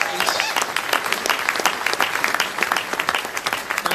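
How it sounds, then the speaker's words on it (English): Crowd applause as a guest is welcomed up at a church gathering, brisk, dense clapping with individual hand claps distinct, holding at a steady level throughout. "Give him a big round of applause"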